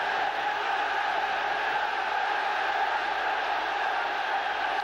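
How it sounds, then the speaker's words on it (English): Football stadium crowd at a 1996-97 Champions League match between Manchester United and Fenerbahçe, a steady loud roar of many voices reacting to a shot, continuous and unbroken throughout. "And just listen to how the crowd have responded to that."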